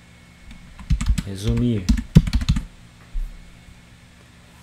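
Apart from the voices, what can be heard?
typing on a computer keyboard to write a note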